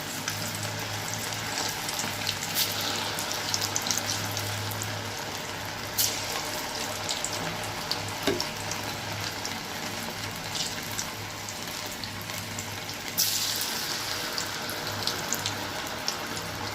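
Chicken pakodi pieces frying in hot oil over a medium flame, giving a steady, continuous sizzle and crackle close by with occasional sharper pops, and no talking.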